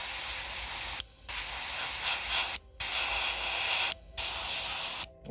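An airbrush sprays dust weathering onto a scale model tank in three long, steady hissing bursts separated by short pauses, loud and close with no talk.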